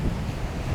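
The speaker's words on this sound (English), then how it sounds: "Some great waves coming in." Surf rolling in against rocks at St Michael's Mount, Cornwall, with a steady low rumble, mixed with gusty wind buffeting the microphone; no voices.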